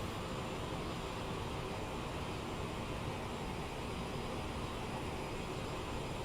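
Jet engines of an Aerosoft CRJ-550 in United livery spool up in Microsoft Flight Simulator, a steady, even broadband roar with a faint high whine, heard alone without any talk.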